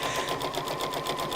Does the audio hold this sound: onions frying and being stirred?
no